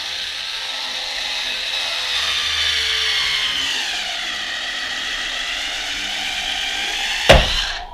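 A battery-powered tool with weakening batteries whirs steadily as it drives into a beer bottle cork, its pitch sagging gradually before a sharp, loud crack near the end.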